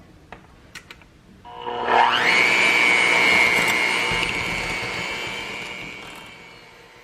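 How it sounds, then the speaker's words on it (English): A hand mixer starts up in a bowl of pumpkin puree, peanut butter and egg yolk, preceded by a few light clicks, then a loud whirring motor whine rises sharply and holds steady before slowly fading. "you're going to use a hand mixer and combine them"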